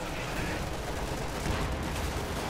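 Heavy .50 caliber machine gun fire mixed with high explosive shell blasts in a Company of Heroes 2 battle, a dense continuous roar of rapid gunfire and explosions, loud and unbroken.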